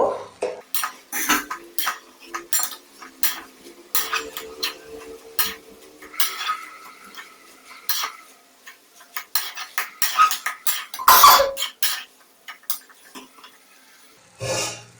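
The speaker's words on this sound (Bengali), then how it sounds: "এবার ঢাকনাটা উঠিয়ে আরেকবার নাড়িয়ে দেব।" A lid comes off a pot of banana flower ghonto cooking over medium heat, followed by scattered metallic clinks and scraping from a spoon stirring, with quiet gaps between the bursts.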